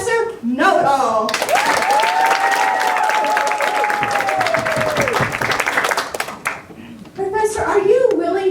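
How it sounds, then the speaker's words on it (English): An audience breaks into sustained applause and cheering with a whistle, lasting several seconds, with people talking just before and after. "let's all give a big round of applause to Professor Know-It-All."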